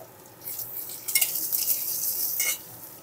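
Cut potatoes tipped into a pan of hot oil for a Bengali vegetarian note shak dish, with a clatter of pieces landing and a bright, steady sizzle that rises and holds close by.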